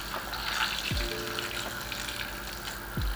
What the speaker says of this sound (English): we have to pour in the hot water on this tray until this